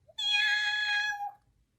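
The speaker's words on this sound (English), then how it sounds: "Yes, it's a cat." A cat gives a single clear, close meow lasting about a second, alone against near silence.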